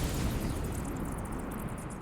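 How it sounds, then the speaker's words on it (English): Fireworks explode in the inFamous: Festival of Blood video game, a dense, continuous roar of blasts and crackle filling the whole stretch at steady loudness with no voices. "Those fireworks go nuts"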